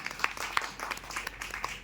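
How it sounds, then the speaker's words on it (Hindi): Brief, fairly faint applause from a seated audience at a meeting, a steady wash of many hands with a few sharper nearby claps standing out. "एक बार जोरदार तालियां हो संस्था की"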